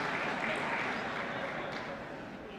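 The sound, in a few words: applause in Congress during State of the Union address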